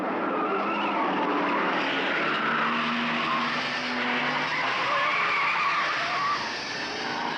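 Moffat's race car at speed on Conrod Straight at Bathurst in the 1971 Hardie Ferodo 500, a steady sustained engine roar with tyre and wind noise, constant and fairly loud throughout, no talk.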